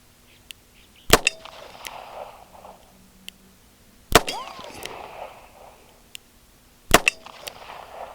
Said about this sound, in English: I am shooting CCI standard velocity in this.